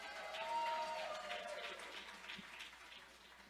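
Audience applause greeting a guest speaker at a lung cancer awareness talk, a steady wash of clapping that swells early and slowly fades over a few seconds.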